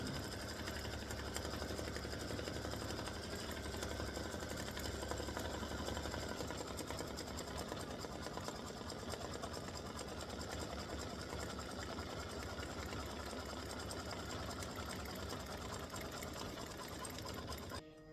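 An embroidery sewing machine threaded with orange thread stitches the word "gobble" onto a football turkey applique block, humming in a steady, continuous rapid chatter that runs close and unbroken for the whole stretch.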